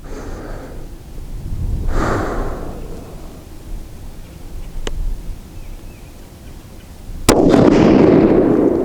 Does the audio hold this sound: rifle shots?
yes